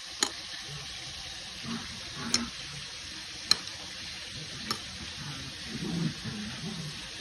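Gentle continuous sizzle of buraw (mackerel) frying in oil, with a few sharp crackles and pops at irregular intervals, fairly quiet and without speech.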